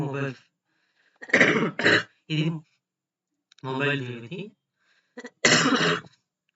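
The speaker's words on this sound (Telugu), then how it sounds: "నాకు కొంచెం దగ్గు ఉంది" A few short coughs and throat-clearing bursts from a man with a cold and phlegm break up his speech, close to the listener.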